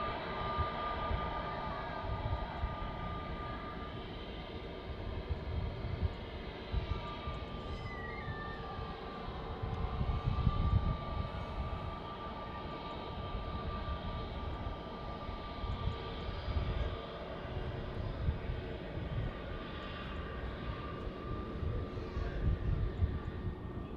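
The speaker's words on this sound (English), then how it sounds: "The A320neo just taking the Mike 1 intersection there" Airbus A320neo airliner taxiing at Manchester Airport, its engines giving a faint, distant, steady whine with a low rumble underneath that swells and eases slightly through the clip.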